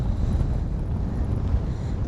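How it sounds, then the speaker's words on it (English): Strong wind sweeps across a main lake point during bass fishing, buffeting the microphone with a continuous low, gusty rumble and no speech. "Man, it's windy."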